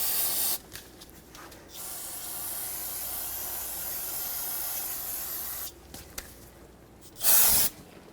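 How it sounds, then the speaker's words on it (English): Brake parts cleaner sprayed from an aerosol can to rinse brake fluid off a 2007-2014 Chevrolet Silverado 2500 HD master cylinder area, with one long steady hiss and a shorter burst afterward, close up. "I'm going to take some brake parts cleaner and clean it up"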